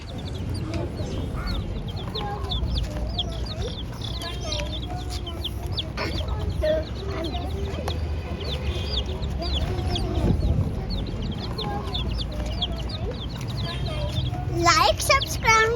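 Coloured chicks cheep and peep in a busy, overlapping chatter of high, close calls that keeps up throughout, with soft clucking and background noise beneath and a louder burst of cheeps near the end.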